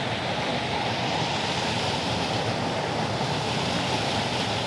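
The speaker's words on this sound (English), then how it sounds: "Anyway, lovely weir." Water rushing over a river weir, a steady, dense roar of tumbling water heard from nearby, unbroken and even for several seconds with no voices.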